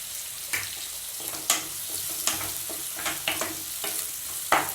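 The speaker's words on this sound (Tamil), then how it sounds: "வெங்காயம் நல்லா வதங்கிடுச்சு இப்போ கட் பண்ணி வச்சிருக்க தக்காளி போட்டுக்கோங்க" Onions and tomatoes fry in a pan with a soft, continuous sizzle, and the ladle knocks against the pan at intervals as it stirs. The sound is close and moderately quiet.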